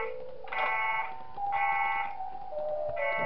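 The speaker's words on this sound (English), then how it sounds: "Okay, let's get rid of the alarm." In the video game Five Nights at Wario's, an electronic alarm sounds three times in steady repeating tones, loud and synthetic, with no voices over it.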